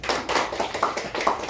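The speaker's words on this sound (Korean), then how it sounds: "우리 박수 한번 주시죠." A church congregation applauds during a Christmas Sunday service. Brisk, fairly regular claps patter in quick succession at moderate volume, with no voices over them.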